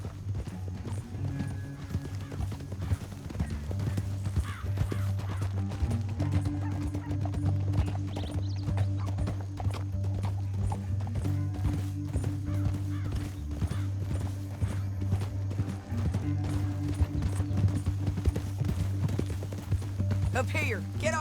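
Horses galloping in Red Dead Redemption 2, a rapid, continuous clatter of hooves with an occasional whinny, running steadily under a droning music bed and intermittent voices talking.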